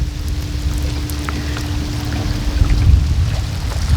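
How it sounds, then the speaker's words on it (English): Rain falling outdoors near a makeshift setup, a steady patter with scattered drips and a low rumble, close and fairly loud with no talking. "It's raining."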